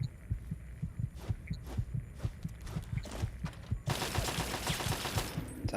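An automated turret in Fallout fires a rapid, steady stream of low thudding shots, about three per second, continuous and fairly close, with a brighter hiss joining in the last couple of seconds.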